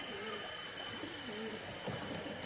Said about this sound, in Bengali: এই দেখুন পায়রা দেখুন কেমন